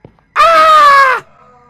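A person lets out one loud, sustained scream of under a second, sharp onset and abrupt end, close and alone, followed by near silence.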